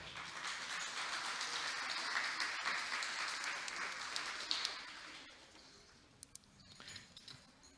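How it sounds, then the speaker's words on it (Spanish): Audience applause at the grand final of a quiz show, loud and steady for about five seconds before thinning into scattered claps and fading out. "Le brindamos un fuerte aplauso, por favor."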